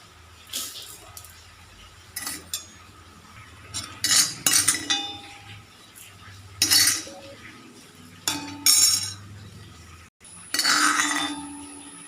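A spoon scrapes and clinks against a pan while roasted rice is scooped out for a Kerala ariyunda rice-ball sweet, several short metallic bursts with pauses between, close and fairly loud, no talking.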